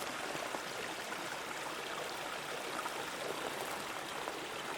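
A mountain stream flows at a trail crossing in the wilderness near Tehipite Dome, a faint, steady rushing wash of water with no voices or other sounds.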